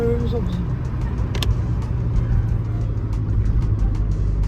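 A car rumbles along at speed with a steady, low engine and road drone, heard from inside the vehicle while people talk and laugh over it.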